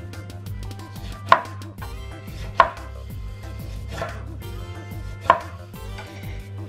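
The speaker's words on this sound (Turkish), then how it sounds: "Şimdi limonlarımı kesiyorum." A knife cuts through lemons on a board during home cooking, giving a few sharp chopping knocks, three standing out clearly, over a steady low background hum.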